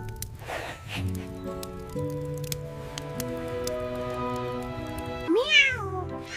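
A cat gives one short, rising-then-falling meow near the end, heard over a steady background of gentle music.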